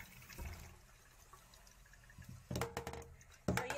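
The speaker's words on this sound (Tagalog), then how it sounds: "Lagyan ko ng konting tubig." A little water is poured into a pot of cooking pork rib sinigang, giving two short splashing bursts after a quiet simmering background.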